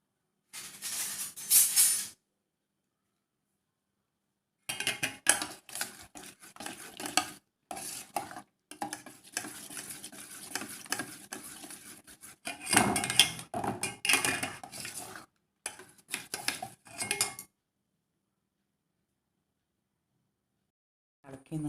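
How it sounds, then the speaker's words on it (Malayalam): A spoon stirs milk boiling in a pot while making pineapple pudding with china grass, giving close scraping and sizzling bursts in several separate stretches with silent gaps between. "പാല് തിളച്ചുകൊണ്ടിരിക്കുന്നുണ്ട്."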